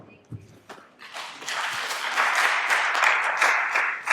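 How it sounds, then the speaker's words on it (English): An audience at a talk on chronic disease and life expectancy among African Americans breaks into applause that starts with scattered claps, then swells into a full, steady wash of clapping that holds to the end. "let's give one more, like you care, round of applause for all those folks up there"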